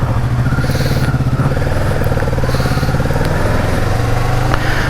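A motorcycle ridden out on the open road in the Philippines, its engine a steady close drone with low rumble and clattery mechanical texture throughout, no pauses.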